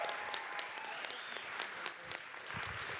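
Audience applause at an AI forum event, fairly soft and distant clapping with a few sharper individual claps standing out, continuing for a few seconds without speech.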